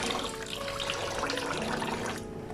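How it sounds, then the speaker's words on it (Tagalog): Tap water runs steadily into a pot while rice is washed, a continuous close splashing rush with little variation. "Then drain ko yan. Pangalawang hugas."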